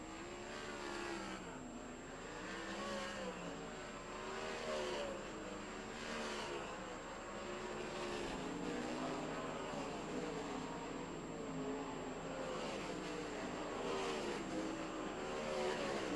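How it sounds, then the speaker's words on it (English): 410 sprint cars running hot laps at Port Royal Speedway, a crowd of engines droning and wavering steadily at moderate distance, rising and falling as the field circles the dirt track, with no talk over them. "we are about to throw the green flag on hot lap session number 2 for the 410 sprints"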